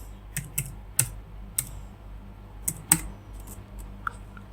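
Someone types an application code on a computer keyboard, with a handful of separate key clicks in an irregular rhythm, close and fairly quiet over a low background hum.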